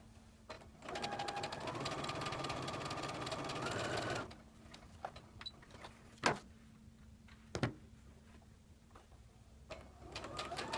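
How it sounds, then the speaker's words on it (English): A sewing machine stitches quilt pieces in one steady, close whirring run of about three seconds, then stops, leaving a quiet room with a few soft knocks and clicks. "we are going to stitch right next to, just a thread's length away from"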